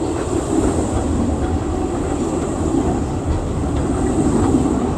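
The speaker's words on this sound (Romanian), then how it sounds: "uite tramvai Skoda" A Skoda tram rolls along city rails in Prague, a loud, close, continuous rumble with a hissing, rattling rail noise throughout and no talking.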